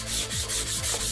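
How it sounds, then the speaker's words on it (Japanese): Spray-painted surface being polished by hand with abrasive, a close, loud rhythmic rubbing of about four back-and-forth strokes, with no talking. "磨いてたら音が変わってきますからね。"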